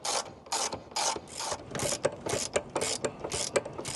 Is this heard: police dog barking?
no